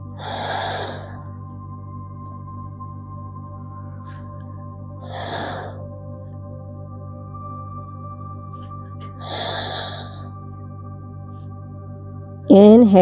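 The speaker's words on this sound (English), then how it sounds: "We're going to stay here for 5 more breaths." Slow, deep breaths during a yoga flow for the neck and shoulders, three long airy breaths spaced several seconds apart over a steady low background hum.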